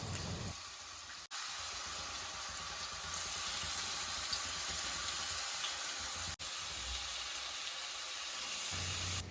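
Tiger prawns frying in hot coconut oil in a kadai, giving a steady close sizzle that runs almost unbroken, with two brief dips where the hiss drops out for a moment.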